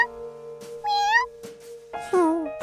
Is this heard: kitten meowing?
yes